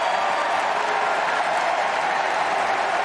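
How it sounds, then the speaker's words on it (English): At a US Open tennis match, a large crowd roars and applauds in a steady, dense wash of noise around break point, loud and unbroken throughout. "Here's the crowd getting involved on break point."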